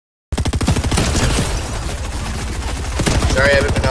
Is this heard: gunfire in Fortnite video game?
yes